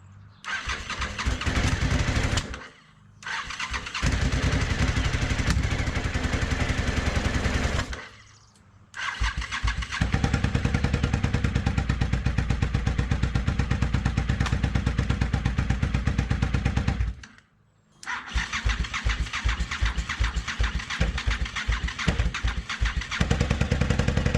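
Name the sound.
reverse trike engine starting and running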